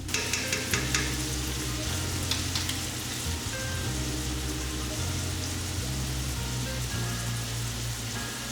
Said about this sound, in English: Now cook the celery and onion in the 1/4 cup of bacon grease that you set aside